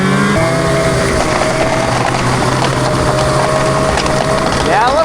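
A snowmobile riding over bare dirt in spring in the mountains, its engine loud and close with a continuous revving whine that rises in pitch near the end, as riders head out.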